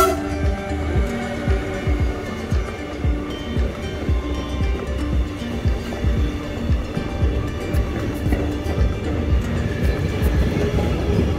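A slow freight train rolls past along the Lake Biel shore path, a continuous rumbling clatter of wagons and wheels that stays loud and steady from start to finish.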